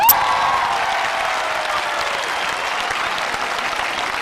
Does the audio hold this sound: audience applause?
yes